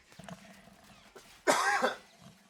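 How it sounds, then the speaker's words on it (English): One close cough breaks out after some quiet shuffling, a single harsh burst lasting about half a second. "I'm just going to cough real quick"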